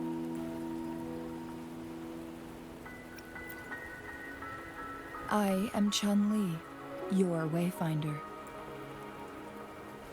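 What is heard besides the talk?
rain in the video game Wuthering Waves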